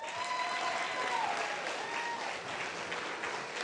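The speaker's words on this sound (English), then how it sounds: "you got to give a round of applause, our new chairwoman, Miss Sharon Ingram" Audience applause for a newly introduced chairwoman at a 25th anniversary celebration of the Arkansas Martin Luther King Jr. Commission, a dense, steady wash of clapping filling the room, with faint voices and a whistle-like tone rising through it.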